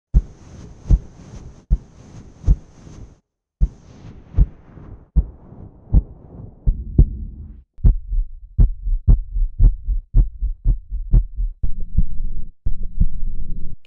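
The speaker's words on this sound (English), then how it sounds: "It's like listening to a heartbeat underwater." Designed heartbeat from a hybrid-voices sound library, with a muffled, underwater feel: steady thumping double pulses, loud and close, the first part sharper with a high tonal edge, the later beats deep and booming.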